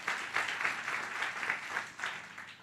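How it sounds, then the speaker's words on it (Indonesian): Church congregation applauding for Jesus during a sermon, a steady wash of many hands clapping at moderate distance, swelling in waves without voices on top. "kalau mau tepuk tangannya yang paling meriah buat Yesus"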